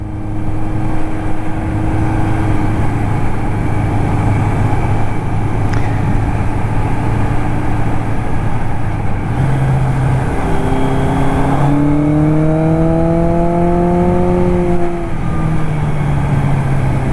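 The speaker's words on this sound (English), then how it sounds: "The roar of the engine is just very visceral." A 1981 Suzuki GS850 cafe racer motorcycle engine runs steadily and loudly, close up, then its pitch climbs through rising revs before easing back, with no talk over it.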